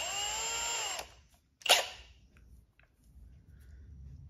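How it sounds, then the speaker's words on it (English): A power drill whirs steadily while boring a small hole in the grille of a 2016 Dodge Challenger, running about a second before stopping, followed by a short sharp burst and faint handling noises. "drill a hole."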